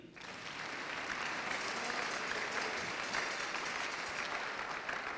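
Church congregation applauding together after a call to acclaim the Lord, a steady, full sustained clapping filling the room for several seconds without a break.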